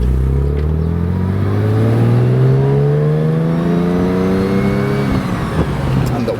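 A Jaguar E-Type roadster engine pulling steadily while driving, a loud close drone whose pitch climbs as the car accelerates, then levels off and begins rising again.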